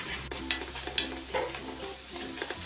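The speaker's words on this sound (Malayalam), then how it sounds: "4 table spoon ginger garlic paste ചതച്ചെടുത്ത് വെച്ചിട്ടുണ്ട്, അത് ഇതിലേക്കിട്ട് വഴറ്റി കൊടുക്കാം" Four tablespoons of crushed ginger garlic paste frying in a pan, a faint steady sizzle broken by light scrapes and taps of a spoon as it is stirred.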